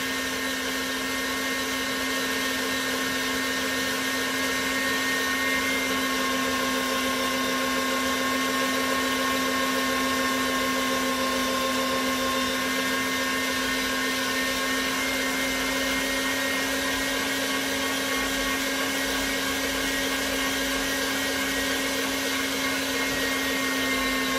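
An electric sausage stuffing machine fills casings with venison sausage, a loud continuous motor drone with a steady whine that holds unbroken throughout, no voices over it.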